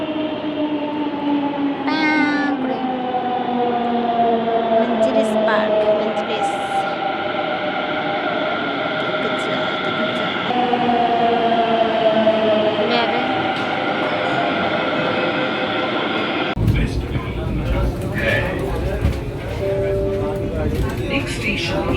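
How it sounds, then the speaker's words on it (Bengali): A Delhi Metro train pulls into a station with a loud, sustained electric motor whine that slides in pitch as it slows, then a burst of rattling noise near the end, amid voices on a crowded platform. "এদিকে মেট্রো চলে এসেছে,"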